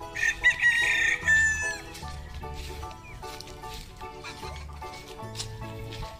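Backyard chickens: a rooster crows loudly up close, then hens cluck and murmur in an uneven, ongoing chatter, with no one talking over them.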